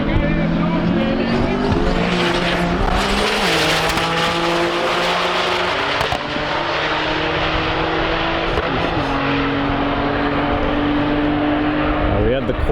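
A twin turbo Viper drag races a Corvette past 200 mph, engines roaring loud and sustained with rising, shifting pitch steps, while a commentator's voice runs under the noise.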